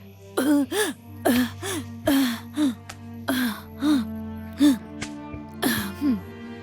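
A run of short, throaty bursts repeats steadily, each a rough cough-like hack with a rising voiced edge, close and fairly loud, with no other sounds around them; coughing from smoke filling a house.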